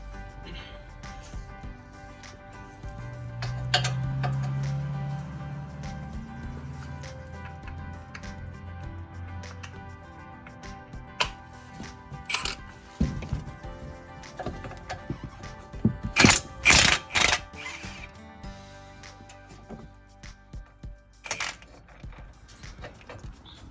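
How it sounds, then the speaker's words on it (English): Brake caliper bracket bolts, 18mm, being removed from a 2012 Ford Focus, heard as close mechanical ratchet clicks, taps and a few sharp metallic clanks in bursts. "remove these two 18mm bolts and pull the bracket out"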